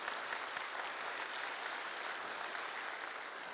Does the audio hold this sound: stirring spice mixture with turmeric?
no